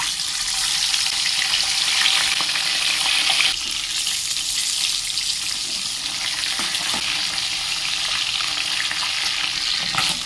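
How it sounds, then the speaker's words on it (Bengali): Bhola fish sizzle steadily in hot mustard oil in a kadai, a loud, dense frying hiss that runs without a break and shifts slightly partway through. "কড়া গরম হলে মাছগুলো একে একে ছেড়ে দেবো"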